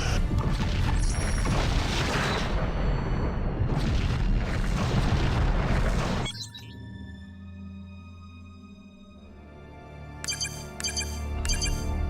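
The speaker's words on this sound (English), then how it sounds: "Romulan target destroyed." Romulan starship blown apart by phaser fire in the Star Trek Legacy space combat game, a loud sustained rumbling blast for about six seconds that cuts off into a low humming drone with chiming electronic tones.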